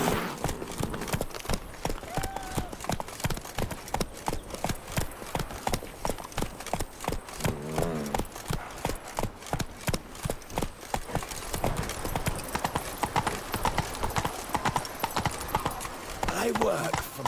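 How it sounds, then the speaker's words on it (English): Hooves clip-clop in a fast, even gallop through The Witcher 3, loud and close throughout, with brief voices and game sounds mixed in. "Giddy up."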